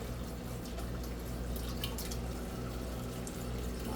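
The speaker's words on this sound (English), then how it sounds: "I'll just rinse them out." Water runs steadily from a tap as dead bugs are rinsed out of a garden container, a constant splashing stream with a few faint drips on top, close and fairly quiet.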